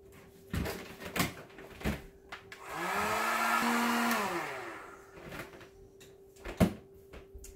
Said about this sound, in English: I'm actually going to put a heat gun on it real quick.